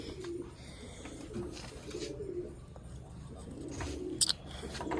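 Pigeons coo in soft, low, rolling calls repeated through several seconds at close range, with a faint background hum and a brief sharp click near the end.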